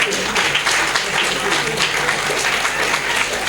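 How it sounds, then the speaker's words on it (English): Sustained applause from an audience at a university board of governors meeting, a steady dense patter of many hands clapping at even loudness throughout with faint crowd murmur beneath. "I think we deserve another applause."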